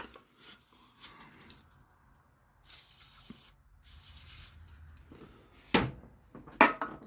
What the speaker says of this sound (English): Brake clean and penetrating oil treatment.